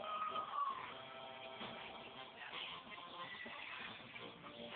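A horse in The Legend of Zelda: Ocarina of Time gives a clear, high whinny near the start, followed by a continuous soft bed of game sound and hoofbeat-like patter during a race.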